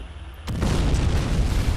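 Gunfire and blasts in the war game Men of War: a sharp burst at about half a second opens into a loud, sustained rumble of booming explosions and shots with no break.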